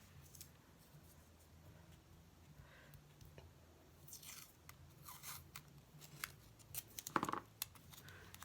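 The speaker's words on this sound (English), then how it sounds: "My corner punch should fit that." A corner punch cuts through paper, heard as a few faint, crisp snips and crunches close by in a quiet room, clustered toward the end.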